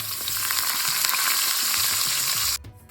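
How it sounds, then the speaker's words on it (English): Onion slices and hot pepper fry in a pot over high heat for a vegan eggplant curry, a steady close sizzle and crackle with faint stirring that cuts off abruptly near the end. "Followed by the onion slices and hot pepper. You'll cook until the edges are brown."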